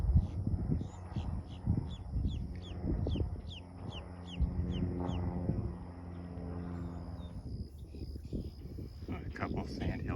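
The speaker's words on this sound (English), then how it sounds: "A couple of sandhill cranes walking by." Sandhill cranes give loud, rolling, rattling calls at Lake Apopka Restoration Area on the Clay Island Loop, heard over rhythmic insect trilling, with someone speaking toward the end.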